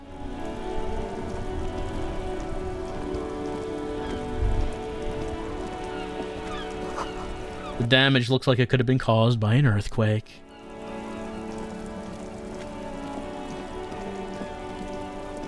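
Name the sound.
rain in the video game Disco Elysium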